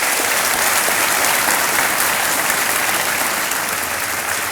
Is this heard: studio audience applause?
yes